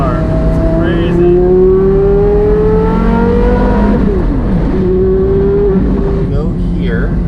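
A car accelerates hard in first gear, its engine note climbing in loud rising sweeps that drop and climb again, with talk over the engine.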